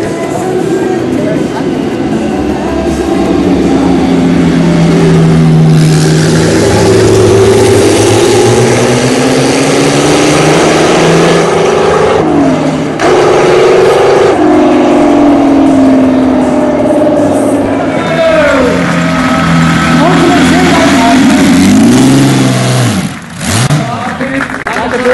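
The engine of a faithful replica of a historic Audi race car runs at the Donauring, a loud, continuous roar with rising and falling revs that fades toward the end; someone talks over parts of it.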